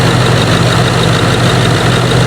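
A cheap used Range Rover engine idles steadily and close, a dense, even low rumble with constant vibration and no voices.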